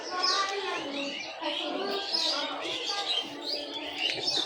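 Small birds chirp and coo continuously at a small home farm with a few quail and pigeons, a steady close chatter of tweets and soft calls throughout.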